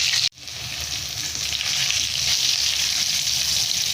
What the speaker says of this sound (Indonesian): Kita goreng tempe.